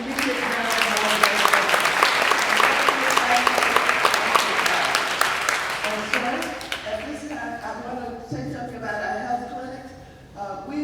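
Sustained audience applause at a town hall in a high school venue, loud and dense for about seven seconds before thinning into scattered claps, with a voice speaking through the fading end.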